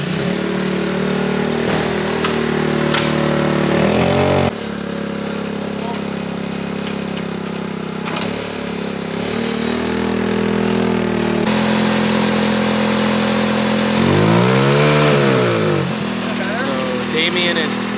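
A moped engine fitted in a boosted Honda Civic idles steadily while its carburetor is tuned, the motor droning close and loud with pitch dips and one rev swell as people talk over it.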